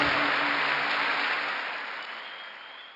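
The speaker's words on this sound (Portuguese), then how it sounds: "dá um aplauso aí ao Senhor" Dense applause from a Sunday church congregation, full and close at first, then gradually dying away over three seconds, with no speech over it.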